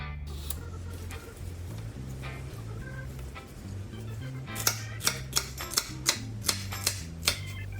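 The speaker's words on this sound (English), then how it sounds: "Slicing those halves in smaller bits." A knife slices celery halves into smaller bits on a cutting board, about eight crisp, evenly spaced chops in the latter half over a faint background hum.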